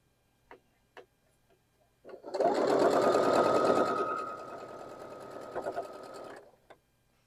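A sewing machine stitches fabric pieces for a basket quilt block, a close, steady mechanical whir lasting several seconds, ramping up and then easing before stopping, with a few small clicks before it starts.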